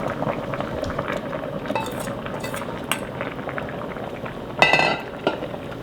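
Cheonggukjang, a Korean fermented soybean stew, boils in a pot with a steady, close bubbling hiss and occasional faint clinks of utensils, no voices.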